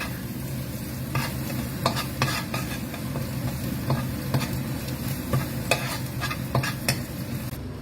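Cabbage stir-fried with fish sauce in a pan sizzles steadily and close up, with repeated scraping and stirring strikes punctuating the constant frying hiss.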